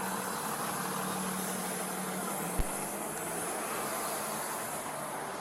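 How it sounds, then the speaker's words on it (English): A truck engine idles at a steady low drone during a roadside traffic stop, with a single sharp thump midway and no talking. "all this truck noise and everything"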